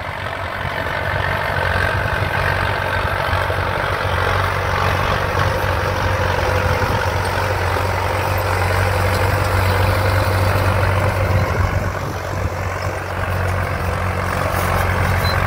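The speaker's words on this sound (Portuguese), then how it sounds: "plantando milho da safra com trator Valmet" A heavy Valmet 880 tractor diesel engine idles steadily and loudly nearby, a constant low rumble with no break for the whole stretch.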